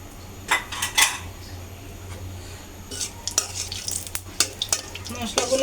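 Spices frying in a pan for chicken curry, a low sizzle under sharp clinks and scrapes of a utensil against the pan, irregular and close, with no talking.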